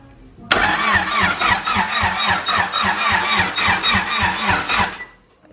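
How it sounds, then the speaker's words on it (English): A Honda EG car engine that has sat for years cranks over on a starter jumped with a wire. A loud, steady rhythmic churning runs for about four and a half seconds, then cuts off. "And we can hear it crank over"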